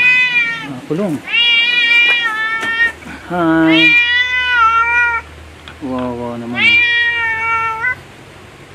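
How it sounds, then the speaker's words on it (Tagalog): A cat meows repeatedly up close, loud and clear, in several drawn-out, rising and falling calls spread across the stretch, with a few short spoken words between them. "Ay, may pusa."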